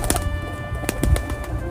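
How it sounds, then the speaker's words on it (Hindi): A pigeon coos nearby, soft low calls in a brief sequence with a few louder bird notes and no one speaking. "पिजन को हिंदी में कबूतर कहते हैं"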